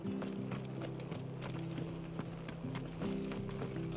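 A horse in the Final Fantasy 16 video game clip-clops steadily as it walks off toward the stables, its hooves loud and close with a faint background hum and no talking.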